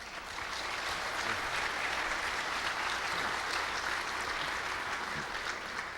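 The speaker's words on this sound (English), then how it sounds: "So let's give Bruce a round of applause for that." Conference audience at a security event giving a round of applause, a steady even wash of many hands clapping from a sizable room, sustained for several seconds at moderate level with no talk over it.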